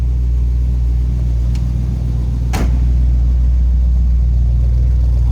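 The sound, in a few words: 1940 Chevrolet pickup street rod exhaust rumble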